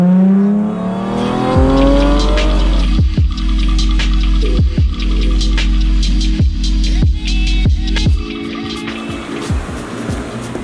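A Nissan 370Z/350Z V6 fitted with a cold air intake revs repeatedly, a steady loud engine drone punctuated by a series of sharp throttle blips and drops, close and continuous with no talking.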